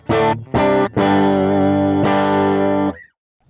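A Gretsch White Falcon electric guitar with a Bigsby arm, played through a Quad Cortex, strikes two short chords, then a long full chord and a restruck one. The last chord rings out briefly before stopping cleanly.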